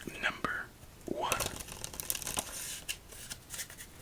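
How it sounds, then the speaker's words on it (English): Playing cards riffle-shuffled during an ASMR solitaire session, a crisp fluttering burst near the start, then softer card handling and faint close-up whispering. "let's give it one more riffle shuffle"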